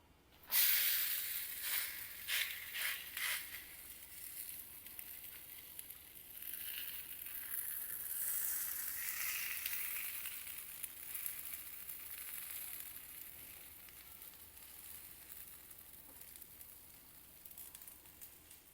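Akki roti, a rice-flour flatbread, hissing on a hot tawa with a banana leaf being peeled away, a bright steady sizzle that flares loudest at the start and then settles into a softer continuous hiss.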